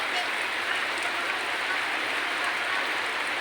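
Heavy rain pours steadily at an outdoor house-post digging and concrete-pouring site, a dense, even hiss that holds constant throughout with no talk over it.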